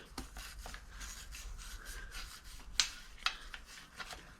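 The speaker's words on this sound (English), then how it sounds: "I'm just going to clean it the best I can." Gunk being cleaned from a bicycle bottom bracket, faint close rubbing and scraping with two sharper clicks of metal near the end.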